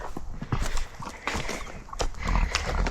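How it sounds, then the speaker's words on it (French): A small horse on a farm gives a few close, uneven hoof clip-clops at feeding time, over steady outdoor background noise. "Et on a aussi mon petit cheval."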